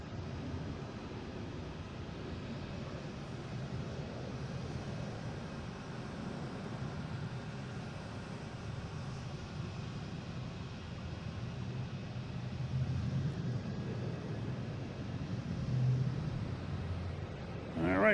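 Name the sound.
American Airlines Embraer E175 jet at Boston Logan airport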